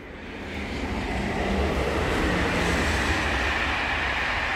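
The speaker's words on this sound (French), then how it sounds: "Il y en a le train qui va en Suisse qui fait du bruit." A train bound for Switzerland passes at a distance, a continuous low rumble and rolling roar that builds slightly and holds steady in an outdoor garden.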